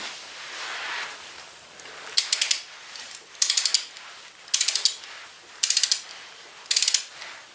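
A torque wrench set to 15 pounds tightens a bolt while working on a Husqvarna Z254 mower, giving five separate bursts of rapid ratcheting clicks, close and crisp, with short pauses between them and no speech.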